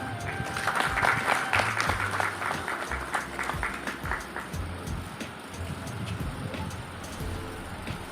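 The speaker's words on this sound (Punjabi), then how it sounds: "ਕਿਰਪਾ ਕਰਕੇ ਤਾੜੀਆਂ ਮਾਰੋ" Audience applause at a community seminar, a dense patter of many hands clapping that swells early and then thins out, with a low rumble underneath.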